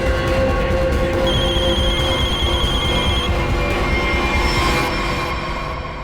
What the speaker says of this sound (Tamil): போன் அடிக்குது